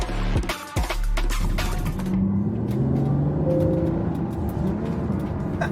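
A Ferrari 12Cilindri engine while driving: a short burst of road and mechanical noise, then the engine note climbs steadily in pitch as the car accelerates, loud and close, with no voices.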